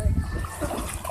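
A hooked salmon splashes in the water of Koombana Bay at Bunbury, Western Australia: short, close, choppy watery sloshes and slaps of moderate loudness, with faint voices in the background.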